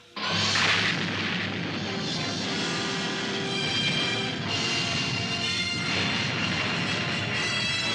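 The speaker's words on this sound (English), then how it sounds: "Although our new missile proved too good for your craft, it was not good enough to totally destroy it" A missile launch and explosion sound effect from a puppet television series, a loud sustained roaring blast with rumbling low end and hissing spray lasting the whole span, swelling near the start.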